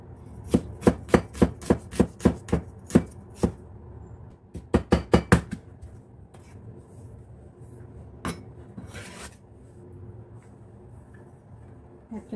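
Garlic being chopped with a knife on a cutting board, a quick run of sharp knocks followed by a second short burst, then a few scattered taps, close and fairly quiet.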